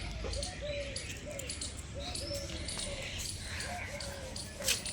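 Pigeons coo softly and repeatedly in a steady rhythm, somewhat distant, over a constant background hum.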